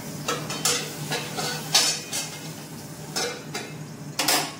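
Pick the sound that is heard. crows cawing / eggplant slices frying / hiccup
eggplant slices frying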